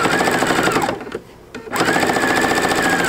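A PFAFF Creative Icon sewing machine stitching with a quilt binding attachment, a fast even whir that pauses briefly midway and then resumes, close and loud.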